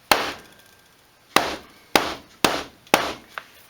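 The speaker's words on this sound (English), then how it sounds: "just a old claw hammer" Old claw hammer striking a Les Paul guitar body, five sharp, close wooden knocks, the first alone and the next four in a quicker, steady run, each ringing briefly, with a small softer tap at the end.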